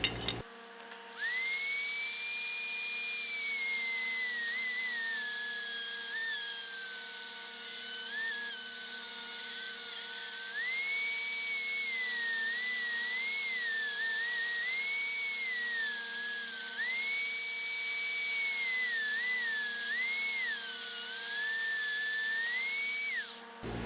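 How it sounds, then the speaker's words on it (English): A Dremel rotary tool cuts and melts through a plastic overhead MOLLE panel for a late 2021 Jeep Wrangler, a loud continuous high-pitched whine whose pitch dips and wavers under load for over twenty seconds. "trim it up a little bit, and I'm going to try using a Dremel"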